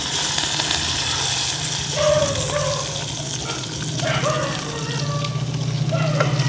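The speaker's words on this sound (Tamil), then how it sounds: "வெட்டி வச்சுருக்கிற வெங்காயம் பச்சை மிளகாயை போடுவோம்" Chopped onion and green chili frying in a pan with curry leaves for a village-style mango curry, a steady close sizzle and crackle running throughout with brief clinks and a voice talking over it.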